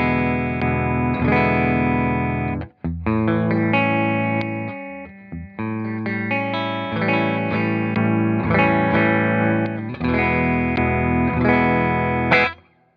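A Fender Telecaster electric guitar with its pickups wired in series plays a driven lead tone, with sustained distorted notes and phrases, brief pauses, and a sudden stop at the end.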